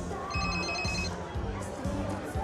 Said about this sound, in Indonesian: Julian menerima telepon dari anak buahnya